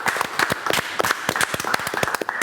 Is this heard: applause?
yes